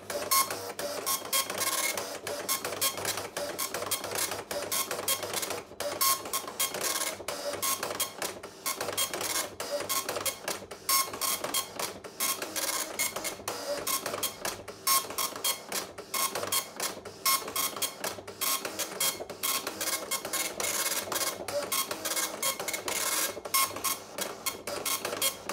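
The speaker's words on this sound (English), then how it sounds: "let's try to print something, and you will be able to see how the printer is working" A vintage 1990s Citizen Swift dot matrix printer prints steadily, its buzzing, chattering print head running in rapid rasping bursts with brief pauses as the carriage returns, close and loud throughout.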